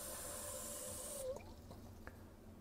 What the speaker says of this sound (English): So I'll just add some more water